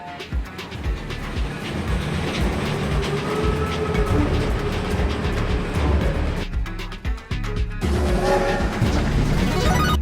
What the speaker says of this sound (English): Load train coming in.